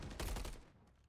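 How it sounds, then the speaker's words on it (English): Dense, rapid gunfire bursts from a competitive shooter video game match, a short muffled volley that fades out within about a second. "What is Peg shooting out at the end of her gun? Nuclear bullets."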